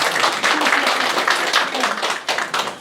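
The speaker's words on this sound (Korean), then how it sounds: "박수 한번 쳐주시죠." A crowd claps steadily for a few seconds, a dense patter of applause with a voice faintly mixed in.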